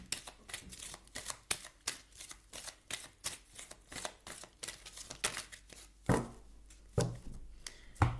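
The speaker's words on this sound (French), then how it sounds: "Je vais vous prendre une carte ici du Soul Coaching de Denise Lynn." Cards from a Soul Coaching oracle deck being shuffled and handled, a long run of quick, close riffling and flicking sounds with sharper slaps near the end.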